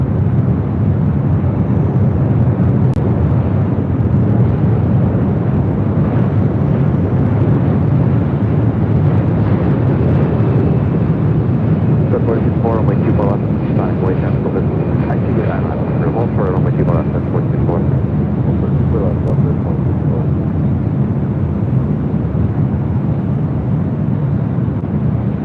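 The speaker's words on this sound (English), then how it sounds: "the United Dreamliner coming in from Hong Kong" A United Dreamliner arriving from Hong Kong lands on runway 24 left at LAX, its loud, sustained jet roar filling the whole stretch with broadband rumble, while a voice talks over it.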